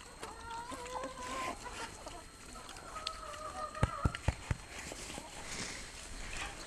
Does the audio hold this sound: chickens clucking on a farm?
yes